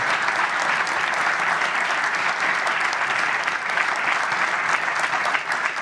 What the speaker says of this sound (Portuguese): Pedir uma salva de palmas